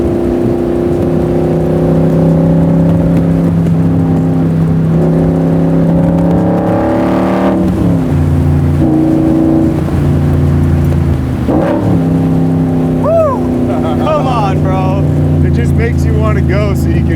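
A Shelby Cobra R with a Gen 3 Coyote engine roars loudly at close range, pulling hard through rising revs, then dropping pitch on downshifts before accelerating again, with a continuous, full engine drone throughout.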